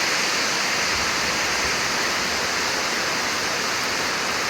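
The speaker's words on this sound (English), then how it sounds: "it's been raining for a little bit, about like this, half hour, 45 minutes" Steady rain pours outside a house, with water running and draining off a downspout, forming a loud, continuous broadband hiss that holds at one level with no talking.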